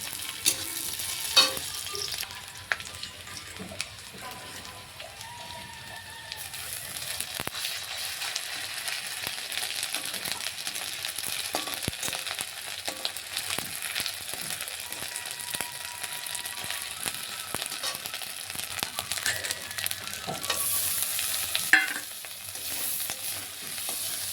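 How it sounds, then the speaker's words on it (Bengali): Spices and green chillies frying in a pan while being stirred, a steady soft sizzle broken by repeated scraping and clinking of the spoon against the metal, close and fairly quiet with no talking. "মশলা কষা হয়ে গেছে"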